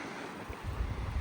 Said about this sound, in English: There's no break from the wind.